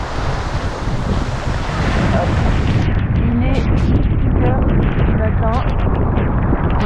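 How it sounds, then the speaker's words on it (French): Loud wind buffets the microphone over rushing surf and sea noise aboard a 9-metre sailboat crossing the Atlantic toward the Azores, with a voice talking intermittently through the roar. "On a pas mal de vent, ce qui est très cool"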